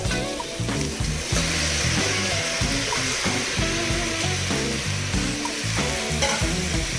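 Washed, drained rice added to a pan of mixed vegetables for Maharashtrian masale bhat, with continuous close sizzling and repeated stirring scrapes in an uneven rhythm.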